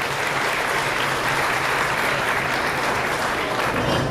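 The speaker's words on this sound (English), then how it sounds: "So big round of applause, Dr. Ken Wilson." Audience applauding at a Robbie Burns dinner, a dense, steady wash of clapping from many hands throughout, fairly loud and close.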